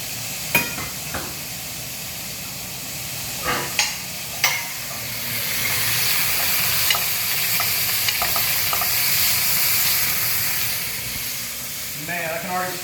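Garlic, red onion and wild boar hit a hot pan after a few clicks and clatters of a utensil, then settle into a steady, close sizzle that fades off near the end.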